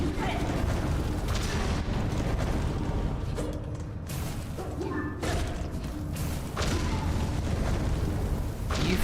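Bombs exploding in Hollow Knight: Silksong, a series of loud booming thuds and bursts spread across the stretch over a busy, continuous game soundscape.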